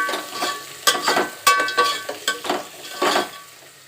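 Green chillies frying in a pan for biryani, crackling sizzle broken by repeated clinks and scrapes of a spoon stirring against the pan, close and with no talk.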